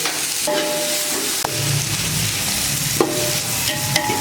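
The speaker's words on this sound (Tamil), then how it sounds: "இப்போ அரிஞ்சு வச்சிருக்க வெங்காயத்தை போட்டுருவோம்" Chopped onions frying in a pan for a potato kurma give a steady, loud broadband sizzle, broken by a few soft clinks of stirring.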